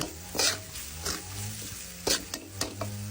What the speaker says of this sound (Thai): ผัดกระเทียมพริกไทยรากผักชีขิง